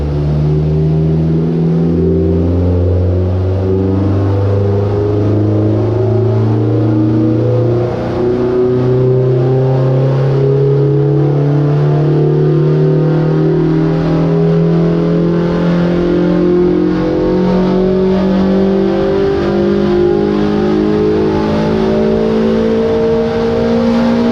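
Ford Fiesta ST150 MK6 engine revving hard on a dyno, its tone climbing steadily through a long sustained pull with a brief lift partway, loud and close with no talk.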